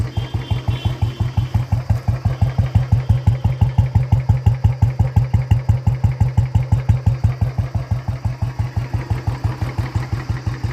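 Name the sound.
Royal Enfield Bullet with Indori silencer idling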